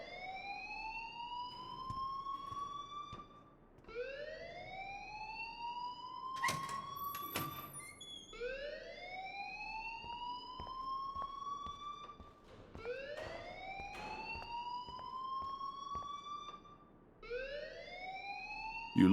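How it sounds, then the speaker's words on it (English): A fire alarm in the video game Life is Strange wails in steady rising sweeps, repeating about every four seconds, with a brief clatter partway through and no voices. "please turn off that alarm since that's your job"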